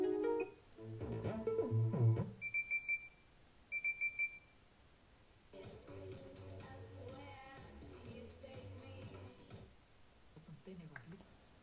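A JBL Horizon II alarm clock plays short beeping alarm tones in quick repeated groups, then a softer chiming wake sound, close and moderately loud, with a person talking over parts of it.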